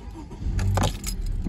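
A 2019 Honda Civic LX is started from inside the cabin, with a brief starter churn and engine catch swelling over about half a second, then settling into a close, steady idle hum.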